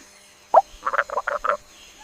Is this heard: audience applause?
no